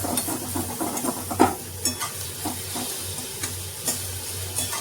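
Spice paste with black cumin stir-fried for a silver carp curry, a continuous close sizzle broken by regular spatula scrapes and taps against the pan.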